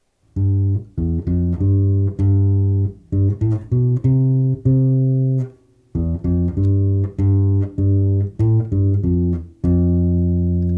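Bass ukulele plays a steady, deep melody in even, straight notes, near and full, with a couple of brief pauses and no voices.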